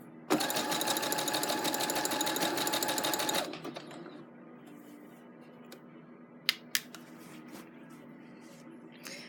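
A sewing machine runs a blind hem on fabric in a steady, fast mechanical chatter for about three seconds, then stops, leaving quiet room hum and a couple of sharp clicks.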